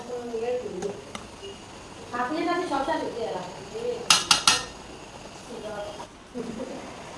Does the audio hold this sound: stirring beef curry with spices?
yes